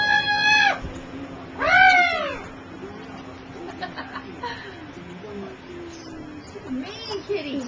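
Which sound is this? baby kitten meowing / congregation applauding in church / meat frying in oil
baby kitten meowing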